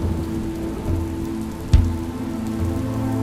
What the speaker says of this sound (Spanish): Una tierra donde a principios de mayo comienza la lluvia.